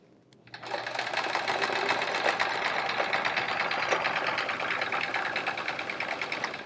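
Sewing machine running continuously during free-motion quilting of elongated swirls on a chevron quilt, a fast steady needle chatter that starts abruptly after a brief quiet moment and holds close and even, no talking.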